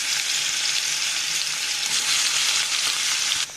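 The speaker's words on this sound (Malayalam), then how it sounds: "ഇനി ഇത് നമുക്ക് ഒരു പാത്രത്തിൽ എണ്ണ ഒഴിച്ചത് ചൂടാകുമ്പോൾ അതിലേക്ക് കുറേശ്ശെ ഇട്ട് കൊടുത്തിട്ട് വറുത്തെടുക്കാം" Yam pieces fry in hot oil with a steady, dense sizzle that fills the whole stretch, crackling evenly and close up until a slight drop at the very end; no voices.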